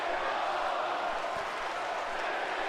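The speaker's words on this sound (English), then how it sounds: "This crowd here, however, is eating this up." Wrestling crowd at a wrestling figure show, a steady roar of cheering and noise, broad and sustained throughout.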